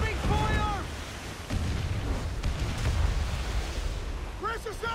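A heavy boom of cannon fire rolls over the sea in Assassin's Creed IV: Black Flag naval combat, with a voice over the ocean noise and crew shouts.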